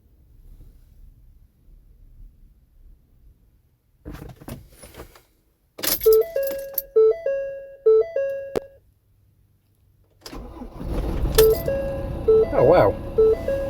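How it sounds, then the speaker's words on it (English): Ford Transit 2.2 TDCI van cranking from a cold start with an Ancel Superstarter capacitor booster: repeated electronic warning beeps, then the diesel catches and runs loudly, with a voice talking under it. "Should we give this one a go and see what happens from a cold start?"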